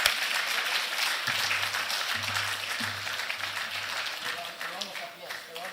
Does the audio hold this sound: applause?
yes